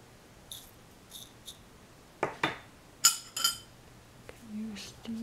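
A small spoon clinks and scrapes against a teapot while scooping out tea leaves, a few sharp metallic taps and scrapes in short bursts, close and fairly quiet.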